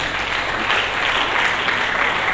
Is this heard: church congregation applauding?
yes